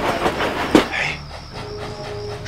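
A train rolls past close by with a clickety-clack of wheels on rails and a brief metallic squeal, loud for a moment and then settling into a lower rumble.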